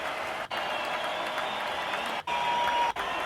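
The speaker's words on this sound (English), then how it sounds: "Maybe crowds at a stadium?" Dense, steady applause from a large stadium crowd, a continuous wash of many hands clapping at close-to-moderate distance, broken by a couple of brief gaps.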